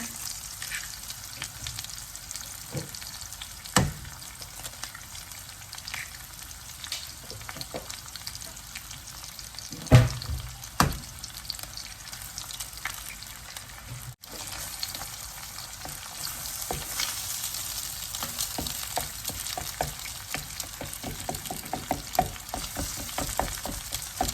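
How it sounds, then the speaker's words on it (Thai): Shrimp and egg stir-fry in a hot pan for Thai pad thai: a steady, close sizzle of frying with scraping stir strokes and a few sharp clatters, continuous throughout with no voices. "กุ้งออกเลยค่ะ ลงไป จากนั้นก็ตามด้วยไข่นะคะ"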